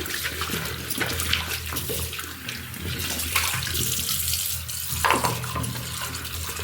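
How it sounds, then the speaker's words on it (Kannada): Running tap water pours steadily while something is washed with soap, a loud continuous splashing rush with small surges, heard up close and alone. "ಮತ್ತೆ ಒಂದು ಸಲ ನಾನು ಸೋಪ್ ಹಾಕಿ ತೊಳ್ಕೊಂಡಿದ್ದೀನಿ"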